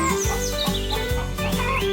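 Chickens cluck and chirp in a farm simulation game, their clucks steady and fairly loud over a continuous bed of game music and farmyard ambience, with no talking.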